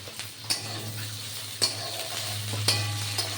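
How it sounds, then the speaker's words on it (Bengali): Potato pieces fry in oil in a pan for a Bengali fish curry with drumsticks, a steady close sizzle broken by three or four sharp scrapes and clinks of a spatula against the pan. "আলুটা একটু ভাজা হবে, তারপরে পটল দেবো"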